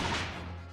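Single loud firework bang in The Great Ace Attorney 2 video game, a sharp gunshot-like crack that decays in a booming, echoing tail, alone.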